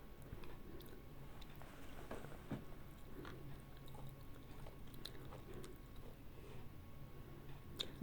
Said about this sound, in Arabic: انا باكل.